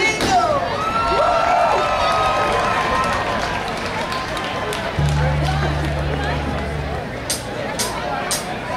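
A live concert crowd cheers, yells and whoops for the band's drummer, a dense, loud roar of many voices sustained throughout with scattered shouts and a steady hum underneath.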